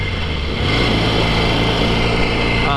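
A 1963 Royal Enfield Interceptor motorcycle engine with a 180-degree firing order runs steadily and loudly close by, a breathy, even drone that holds for the whole stretch with no voices over it.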